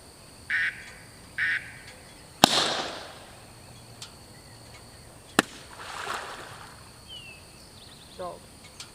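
During a retriever hunt test on water, two short quacking blasts of a duck call sound, followed by a sharp gunshot echoing out; later another crack and faint splashing, with distant calls in an open outdoor setting.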